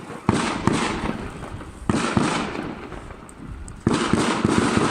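New Year fireworks burst outdoors in the dark, three loud sharp explosions spaced about two seconds apart, each followed by a long crackling rumble that fades before the next.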